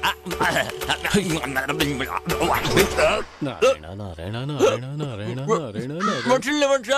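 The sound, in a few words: crow cawing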